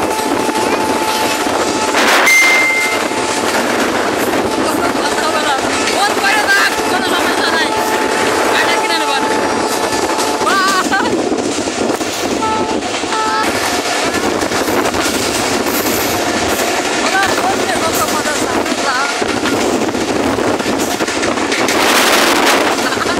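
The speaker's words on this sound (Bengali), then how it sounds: "এই যে এখন ট্রেন চালু হলো, এবার আমরা যাচ্ছি" A passenger train rolls along steadily with a loud, continuous rumble and rattle of the carriages, travelling from Madhukhali toward Boalmari station, with scattered voices in the background.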